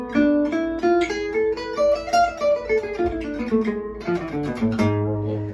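Gypsy jazz guitar plays a diminished arpeggio run with an added scale note between the chord tones, forming a six-note harmonic minor line of quick, clear picked notes over a low accompaniment, played steadily without talk.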